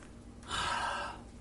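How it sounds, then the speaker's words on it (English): A loud, rushing breath lasting about a second, heavy and close, rising sharply and then fading, like a gasp or forceful exhale. "can you work out what the loud breathing is?"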